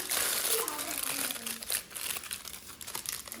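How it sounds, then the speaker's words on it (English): Aluminum foil crinkles steadily while being wrapped around a warmed garlic roll for a child's school lunch, a close, continuous papery rustle with faint background voices. "her garlic roll has been warmed up and I am just gonna add that to a foil"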